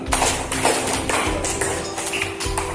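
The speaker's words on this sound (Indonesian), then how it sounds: "tepuk tangan buat Rio" Classroom applause for a student named Rio before a group presentation, a few seconds of scattered, uneven hand claps from a small group, close by and without talk.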